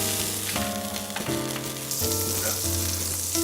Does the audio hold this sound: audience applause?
no